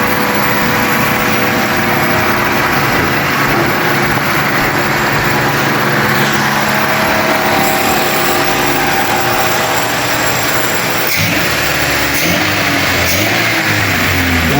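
A small engine roars loud and steady nearby, revving continuously while its carburetor is adjusted, with slight rises in pitch and no pauses.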